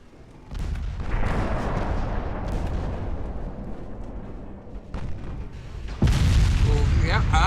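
Battleship guns with 15-inch cannons fire in the naval warfare game Ultimate Admiral Dreadnoughts, producing heavy, rumbling booms that roll on for several seconds before a sharper, louder blast near the end, with a voice talking over part of it.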